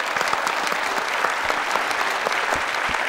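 A studio audience on an Afghan talk show claps continuously to welcome a guest, a dense, even roar of hands throughout with no voices over it.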